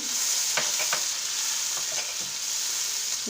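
Tomato paste with turmeric, salt and red chili powder sizzles in oil for a chickpea and boiled egg curry, a constant bright hiss broken by a few light spatula stirs.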